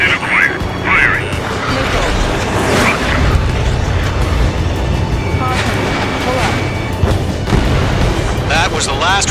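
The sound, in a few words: missile strike destroying radar vehicle, video game Ace Combat 7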